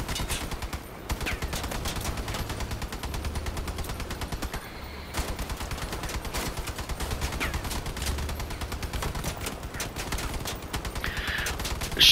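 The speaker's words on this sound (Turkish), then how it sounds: "Aralıksız sıkamıyoruz maalesef." Sustained automatic gunfire from armed vehicles in the video game Crossout, dense rapid bursts that continue almost without pause across twelve seconds, loud and close, with brief gaps and game effects mixed in.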